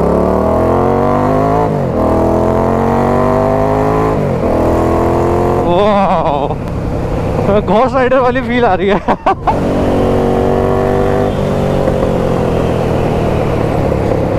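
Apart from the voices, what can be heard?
modified Harley-Davidson motorcycle engine revving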